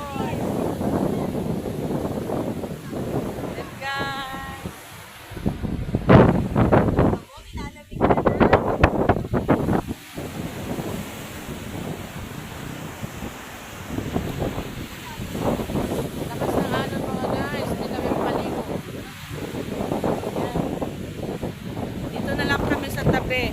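Strong waves crash and wash along a beach, a continuous rushing surf with wind buffeting the microphone, heard under people talking nearby.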